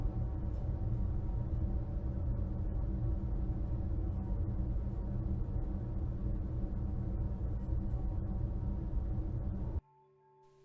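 The A1 Intro Garage LP ambient loop from Half-Life: Alyx plays as a dense, steady low drone with a constant hiss layered over it, continuous for about ten seconds, then drops to a much quieter tail.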